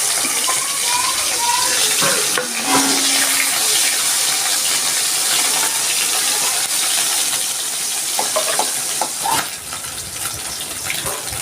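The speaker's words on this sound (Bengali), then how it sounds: "মাছগুলো একটু ভেজে নিচ্ছি" Small fish rubbed with salt and turmeric fry in hot mustard oil in a kadai, giving a loud, continuous sizzle with a few brief clinks and a dip near the end.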